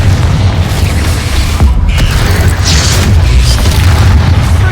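Explosive boom of a Confringo blasting spell in the video game Hogwarts Legacy, a loud sustained roar of blast noise with rumbling low end and crackling bursts throughout.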